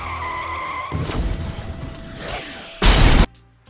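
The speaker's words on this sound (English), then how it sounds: "someone's bringing in a car?" A car skids brakes-locked at a bike shop, a loud harsh screech swelling from about one second in and peaking in a short, very loud burst near the end, then cutting off.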